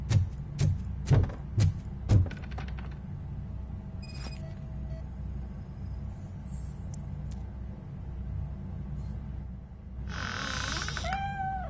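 A cat in the video game Robocop: Rogue City gives a few short meow-like calls near the start, set against a steady game ambience with electronic tones and a brief high squeal later.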